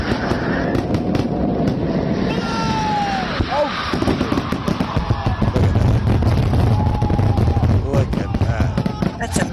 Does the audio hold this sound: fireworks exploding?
yes